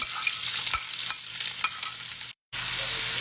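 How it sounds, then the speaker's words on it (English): Sausage dropped into a pan with a little olive oil, sizzling steadily and close with stirring scrapes and a few soft knocks, cut by a brief silent gap before the frying resumes; no speech. "I'm going to add the sausage in. I have a little olive oil at the bottom of the pan."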